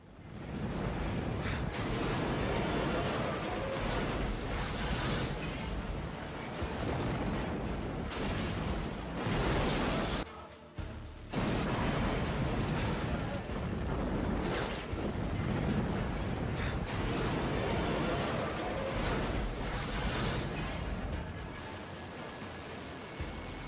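A loud, dense roar of an explosion blast at a storage facility in Port Shahid, Iran, in 2021, rumbling on for many seconds, with a brief dip midway before the heavy noise resumes.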